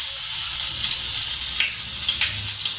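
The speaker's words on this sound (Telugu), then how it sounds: "వీటికి కొద్దిగా ఆయిల్ వేసుకొని మనం తాలింపు వేసుకుంటున్నాం" Onion tempering in hot oil for crispy pali chaat, a loud, continuous close-up hiss and sizzle with slight surges and no talking.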